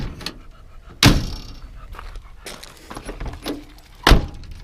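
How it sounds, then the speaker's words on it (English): Door of a 1955 Buick Century Estate Wagon with a 322 Nailhead V8 shutting with a solid, close thunk, followed by a second firm closing thud a few seconds later amid light handling noises. "look how nice the door's shut"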